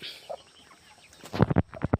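A hen lets out a quick run of sharp clucks near the end, close by, after a quieter stretch with a faint chirp.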